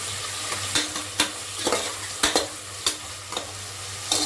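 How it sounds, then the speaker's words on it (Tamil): Onions and green chilies sauté in a pan of hot oil with a steady sizzle, while a spoon scrapes and stirs in sharp strokes roughly every half second, fairly loud and close, with no talking. "இப்போ வெங்காயத்தை போட்டுக்கலாம். வதக்கிக்கலாம். அது கூட 3 பச்சை மிளகாய் போட்டுக்கலாம்."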